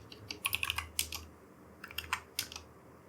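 Java code is typed on a computer keyboard in quick, light clusters of key clicks, two bursts separated by a brief pause, close and fairly quiet.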